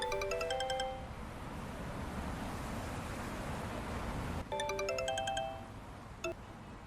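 A bright electronic phone ringtone in an animated cartoon plays a short melodic burst, pauses under steady hiss, then rings again before a single brief chime.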